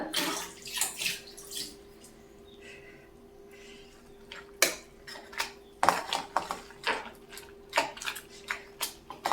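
Cooked vegetables for pav bhaji being mashed in a pot, a series of wet squelching thuds and metallic knocks, sparse at first then coming in a quick rhythmic run, close by.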